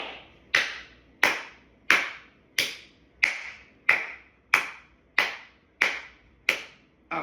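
Single hand claps in a number-counting game, eleven sharp, evenly spaced claps about two-thirds of a second apart, close and clear with nothing else heard.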